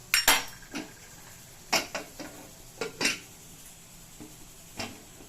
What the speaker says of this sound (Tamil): இப்போ கேஸ் கட் போட்டு குக்கரை நல்லா மூடி வைக்க போறேன்.